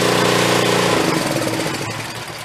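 A Chinese-made used skid steer engine revving hard, a loud, rough, close diesel roar with a knocking, chattering rhythm that eases slightly over about two seconds.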